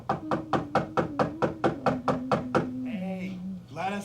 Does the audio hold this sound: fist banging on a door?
yes